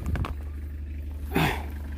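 A car engine idles nearby with a low, steady rumble throughout, joined by a few brief rustling knocks at the start and a short louder scuff partway through.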